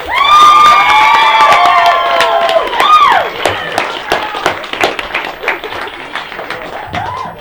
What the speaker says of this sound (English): Can we all have a big round of applause for Becca